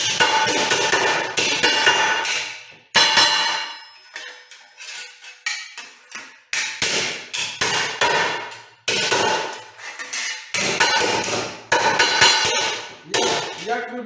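Hammer blows ring out on a flat straightening plate as sheet metal is straightened, a series of sharp metallic clangs and bursts of rapid strikes separated by short pauses, loud and close.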